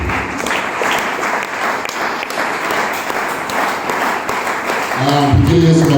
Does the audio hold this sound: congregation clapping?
yes